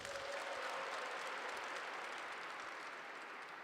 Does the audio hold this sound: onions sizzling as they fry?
no